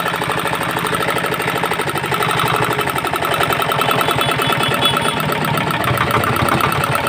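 R175 single-cylinder diesel engine with a faulty governor running close by, a loud steady rapid chugging throb that surges slightly in speed partway through.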